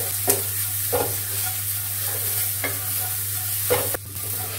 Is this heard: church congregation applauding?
no